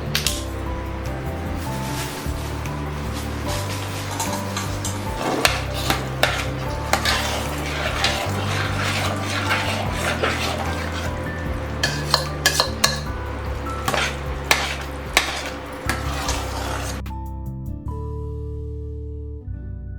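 A spoon scrapes and stirs a thick melted jaggery and chana dal mixture in a metal pot for puran poli, with repeated close metallic clinks and scraping strokes throughout, then quieter tones at the end.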